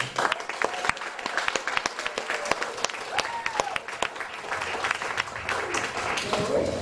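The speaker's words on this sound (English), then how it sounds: "Well, don't clap yet." A crowd at a Green Party rally in Boyne City, Michigan applauds in a dense, sustained wash of many hands clapping, with scattered louder claps and murmuring voices throughout.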